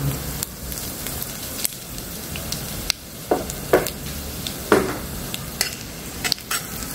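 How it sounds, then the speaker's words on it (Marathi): Cumin seeds sizzle in hot ghee in a pan, a continuous crackling fry broken by several sharp spatula clicks and scrapes against the metal. "आधी तूप टाकणार, तूप झाले जिरे टाकणार।"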